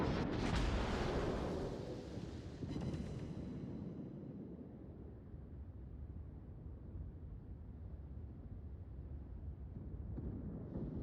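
Battleship main-gun salvos in World of Warships, with the ship New Mexico involved: a heavy booming blast fades into a long rumbling roll, then a second deep report and a faint distant thud as the rumble lingers.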